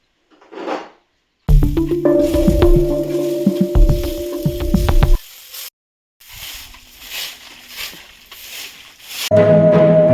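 Fish with chili fries in a pan, giving loud crackling sizzles in bursts separated by short pauses, with some tonal clatter mixed in.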